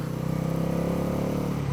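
A Bajaj Pulsar NS400 motorcycle engine drones steadily while riding in a high gear, a loud, close, even hum with a pulsing low rumble and rising pitch near the end.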